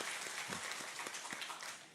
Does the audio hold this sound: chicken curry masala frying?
no